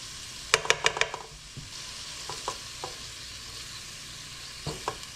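Garlic being stirred in a hot pan for lentil sloppy joes, with a few sharp clustered scraping clicks of a utensil against the pan at the start, then scattered lighter taps over a quiet low sizzle.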